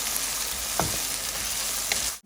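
Onion frying in oil in a pan, a steady close sizzle with a stirring scrape partway through, ending abruptly.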